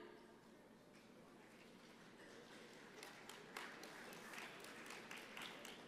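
An audience at a convention prize draw claps faintly and sparsely from a distance. The scattered claps thicken slightly partway through, over a steady hall murmur.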